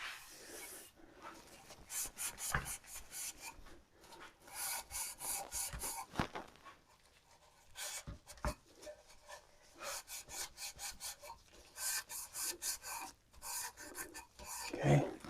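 A wooden baseball bat is sanded by hand, with repeated rhythmic rasping strokes in short bursts separated by brief pauses, close and fairly quiet.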